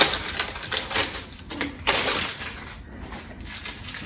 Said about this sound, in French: Donc, j'ouvre mon emballage.